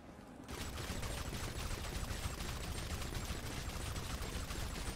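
Rapid gunfire sounds in GTA V as shots are fired at a locked door inside a house, a fast, continuous stream of loud shots that starts abruptly and runs without pause.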